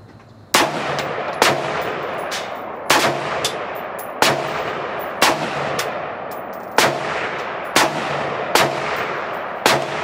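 Roughly ten loud gunshots ring out at a steady, unhurried pace, each sharp crack trailing into a long echoing decay that overlaps the next; no voices are heard.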